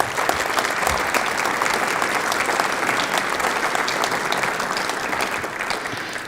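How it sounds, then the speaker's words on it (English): A round of applause at a high school hall of fame banquet, dense, continuous clapping from a large crowd in a hall, loud and sustained throughout with no talk over it. "So if you'll give them a round of applause."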